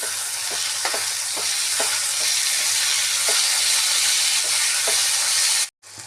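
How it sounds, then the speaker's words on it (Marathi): Tomatoes and onions fry in a pan with a loud, close sizzle, while a utensil scrapes and taps through the stir in a loose rhythm, before the sound cuts out briefly near the end. "आता टोमॅटो कांदा हे छानपैकी सॉफ्ट करून घ्यायचे आहेत"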